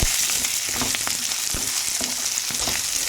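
Curry leaves dropped into hot oil crackle and spit, a dense bright sizzle with sharp popping bursts and scraping of a stirring spoon, close and loud, no voices.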